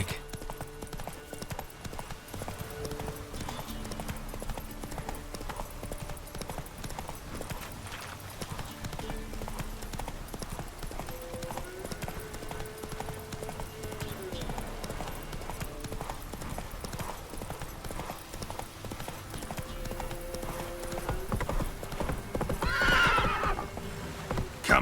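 Roach, the horse in The Witcher 3 video game, galloping with a steady rapid clip-clop of hooves over a long stretch, joined by a loud whinny near the end, with in-game music and some speech underneath.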